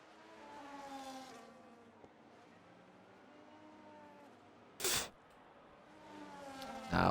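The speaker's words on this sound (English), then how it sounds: "Now the last car approaching the line here in Brazil." Race cars idling and rolling toward the starting grid at the Brazilian Grand Prix in iRacing: soft, steady engine drones rise and fall, with a brief sharp burst midway and another engine swelling louder at the end.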